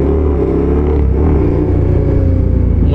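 A naked sport motorcycle engine rumbling while riding, loud and close, a deep steady drone with slight throttle swells throughout and no talk.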